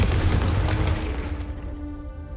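Confringo fire-blast spell detonating in Hogwarts Legacy, a single deep booming explosion at full strength that rumbles and fades over a couple of seconds, no voices.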